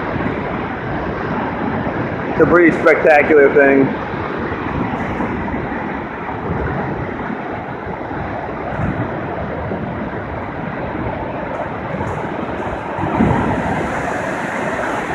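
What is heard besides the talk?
water rushing down from a dam outlet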